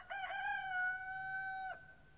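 A rooster crows once, a clear, fairly faint cock-a-doodle-doo with a rising start and a long held note, heard from a distance with no talk.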